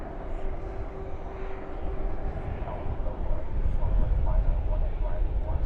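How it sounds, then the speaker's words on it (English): Qatar Airways Airbus A350-1000 landing at night at DFW with spoilers up and thrust reversers deployed, a broad low rumbling roar that swells louder toward the end under a talking voice. "Spoilers up, reversers out. There's the Qatar A350 1000."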